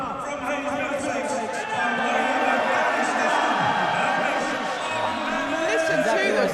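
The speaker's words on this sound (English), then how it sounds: "Listen to the crowd." Fight-night boxing crowd roars in a continuous loud wash of cheering and chatter after a decision is announced, with voices carrying over the noise throughout.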